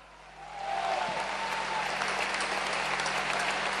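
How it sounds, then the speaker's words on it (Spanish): Crowd applause at the swearing-in ceremony of Avellaneda's mayor, swelling up after a moment into a sustained, fairly distant clapping roar with a faint tone running underneath. "Pido un aplauso"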